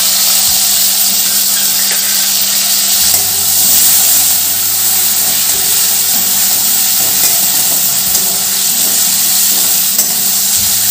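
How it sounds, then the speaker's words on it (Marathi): Puran and chopped potato sauté in hot oil in a pan, giving a loud, steady sizzle and hiss with occasional stirring scrapes, close up and continuous, with no one speaking. "पुरण व बटाटा आपण तेलात छान परतून घेऊ म्हणजे छान शिजेल मस्त"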